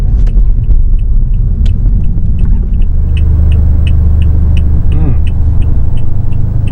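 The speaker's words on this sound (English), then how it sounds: "let's do a test drive and see if it feels the same, vibrate, or if it makes any noise because of the new thread" Steady low road rumble from a car driving on new Lionhart 18-inch tires, continuous tire and engine drone with faint higher ticks and a brief passing swoosh near the end, with no talk.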